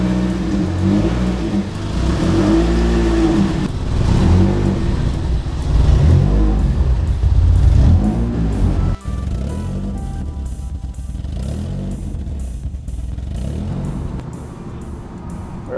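A BMW E36 car engine revs up and down in a few rising bursts, loud and close, then settles to a steadier lower hum after a sharp cut midway.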